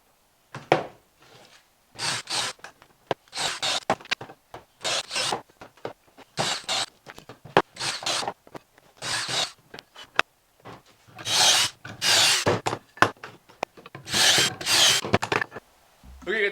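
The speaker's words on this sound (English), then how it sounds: "now we'll drill some pocket holes in each one of the cross pieces." Loud, close drilling of pocket holes into wooden frame cross pieces in about a dozen short bursts, separated by brief pauses, with rasping grind as each bit bites.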